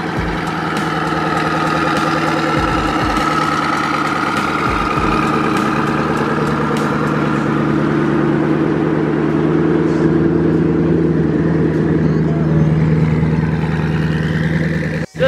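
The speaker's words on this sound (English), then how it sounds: "Just the idling sound of this thing is unbelievable" Supercar engine idling at a drag race meet, a loud, steady, deep mechanical drone with a constant low hum and rumble close by throughout, with no revving and only a brief knock at the end.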